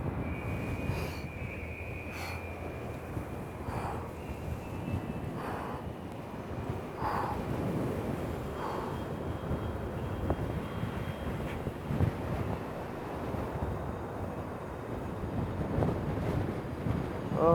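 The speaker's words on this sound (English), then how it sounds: "Oh, I feel like the wind's gonna blow me off." Strong wind buffets an outdoor climb on an island, a continuous rushing roar across the microphone with gusts swelling and fading, a faint distant engine-like drone underneath.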